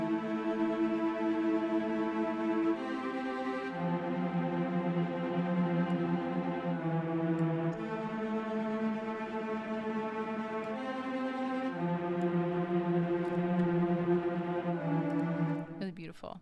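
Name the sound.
orchestral violin and viola tremolo strings played together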